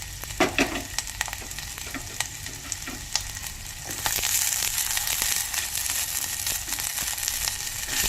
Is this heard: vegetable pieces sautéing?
yes